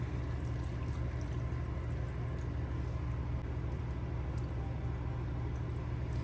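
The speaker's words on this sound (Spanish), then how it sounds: "Y le voy a poner agua." Water poured into a bowl of vegetables set to soak with lemon juice in a home kitchen: a steady, even rush of running liquid lasting several seconds, moderately quiet and unbroken, with no talking.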